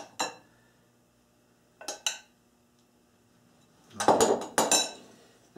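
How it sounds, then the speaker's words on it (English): Salad dressed with vinaigrette and sweet green pepper is stirred in a bowl for a Niçoise salad, a few separate clinking, scraping strikes of utensils against the dish, close and fairly crisp with quiet pauses between. "And that too, we stir it well together."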